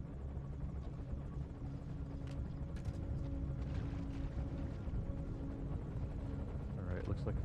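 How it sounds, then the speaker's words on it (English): A helicopter in the Metal Gear video game drones steadily in a holding pattern, a continuous low rotor hum under faint game effects and scattered clicks, with no talk over it. "looks like the helicopter has moved into a holding pattern here"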